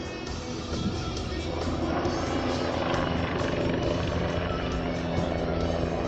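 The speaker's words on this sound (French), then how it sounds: "le tigre que vous voyez évoluer, il correspond à la version HAP, l'hélicoptère d'appui de protection" A Tigre HAP attack helicopter performing an aerobatic display at Aulnat airport, its rotor and turbine roar steady and loud throughout, with a deep rhythmic blade thump under a broad whine.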